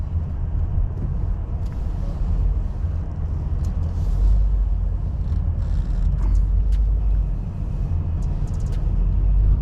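A taxi car driving through city streets, heard from inside as a steady low engine and road rumble with faint traffic sounds and occasional light clicks, continuous and fairly loud.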